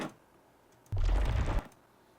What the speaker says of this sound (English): So that adds that like kind of warbly, like whooshing, almost kind of like motion sound effect for this hyperlapse here.